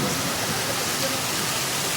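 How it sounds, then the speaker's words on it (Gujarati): Heavy monsoon rain pours down in a dense, unbroken hiss that fills the whole stretch evenly, loud and close with no pauses. "જો કાંઈ મસ્ત વરસાદ પડે"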